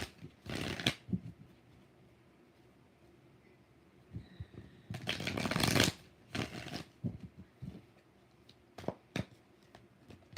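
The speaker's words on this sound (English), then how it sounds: "Two more shuffles." Tarot cards being shuffled by hand in several bursts of riffling and snapping, loud and close, separated by quieter pauses with no talk.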